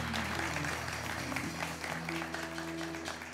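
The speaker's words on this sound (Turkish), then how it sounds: "Alkışlıyoruz değerli konuklarımı." Studio audience on a Turkish late-night talk show applauding the guests, moderately quiet clapping spread evenly across the clip with music or tonal sounds underneath.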